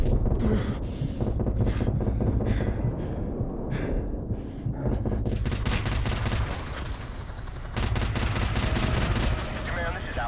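Continuous heavy gunfire from Call of Duty 4: Modern Warfare Remastered, dense automatic bursts and fusillades rolling on without pause, loud and close throughout with wind-like noise underneath.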